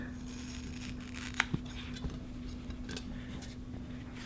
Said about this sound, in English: And you need to cut both sides.